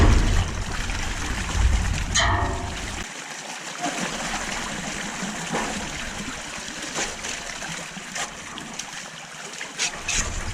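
Water draining out of a swamp on a duck farm after the boards are pulled, a steady trickling flow with a heavy low rumble early on, then faint splashes and brief knocks as it continues.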